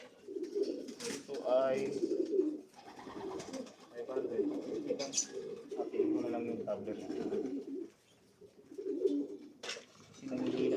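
A weakened pigeon that keeps laying eggs coos in repeated soft, low throaty phrases, close by, while someone talks quietly over much of it.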